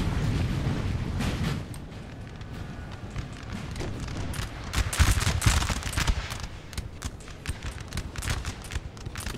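Dense musket volleys crackle through a Napoleon Total War battle recreating Montmirail 1814 between French and Russian armies, with booming artillery guns among them; loud, continuous overlapping shots that swell around the middle, with no talk.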